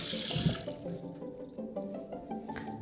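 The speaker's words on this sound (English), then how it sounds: "I'm actually gonna rinse my hands real quick" Water runs from a kitchen tap as hands are rinsed under it, a close splashing burst at first that eases into a softer, steady trickle with some dripping.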